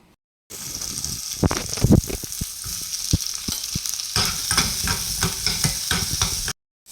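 Cinnamon pieces and cloves dry-roast in a pan for mushroom saaru, giving a close rattling, scraping stir with quick knocks of the spoon over a faint hiss.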